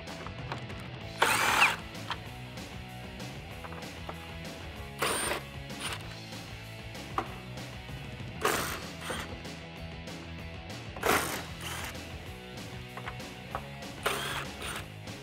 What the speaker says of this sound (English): There should be several little 8 millimeter bolts. We're gonna take that out to separate the grill from its surround.